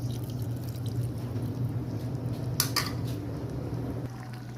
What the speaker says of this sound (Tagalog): Mag-add tayo konting tubig lang.